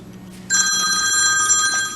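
A phone rings loudly from an unknown caller, an electronic tone that starts abruptly and holds steady and bright, alone with no talk, while collard greens are being prepared in a home kitchen.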